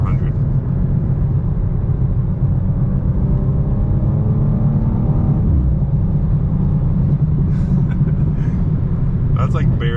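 A 2024 BMW M2 in sequential mode accelerates and downshifts, its engine roaring loud and close with a steady deep rumble and shifting whine. A voice comes in briefly near the end.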